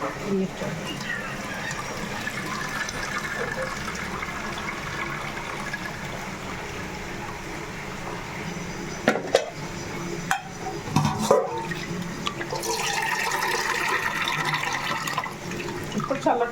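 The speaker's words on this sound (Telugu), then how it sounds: "వాటర్ వేస్తుంది" Hot water is poured over dried prawns in a bowl, giving a continuous splashing, rushing pour that turns louder and more irregular near the end, with a voice speaking faintly underneath.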